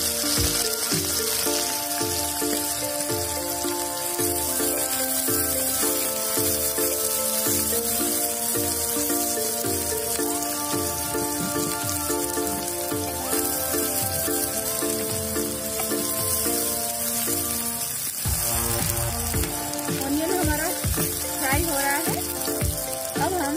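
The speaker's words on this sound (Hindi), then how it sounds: "अब हम इसमें डालेंगे दालचीनी, थोड़ा सा इलायची" Cinnamon and cardamom frying in hot oil for a village-style desi chicken dish cooked in a clay pot, a steady bright sizzle running throughout with bubbling and occasional stirring, close and continuous, with music playing underneath.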